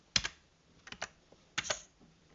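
Keys clatter on a computer keyboard in short clustered bursts, three quick groups of close taps spread over a couple of seconds, fairly quiet and with no voices.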